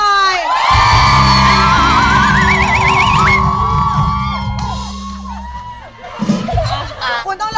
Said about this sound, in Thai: ขอเสียงกรี๊ดให้พี่พายุหน่อย